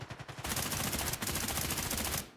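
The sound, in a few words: gunfire in a video game match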